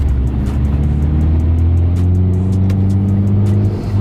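Manual-transmission car accelerating in second gear from inside the cabin, with a loud, steady engine drone rising gradually in pitch and no talking.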